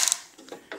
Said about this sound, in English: Everything is all ratchet kind of style, so you don't have to do a lot of twisting of the wrist.